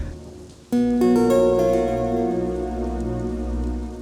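Rain falls steadily in a film scene, a dense hiss that carries under sustained musical tones entering after a moment and continuing to the end.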